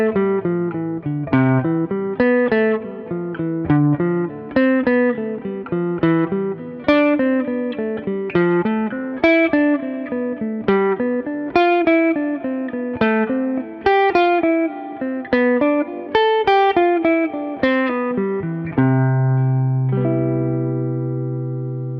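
A guitar runs steady continuous eighth-note lines with melodic accents, ending on a sustained chord; no talking.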